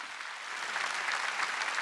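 A church congregation applauds during an Easter Sunday service, a steady, moderately distant wash of many hands clapping that grows slightly fuller over the clip with no speech on top.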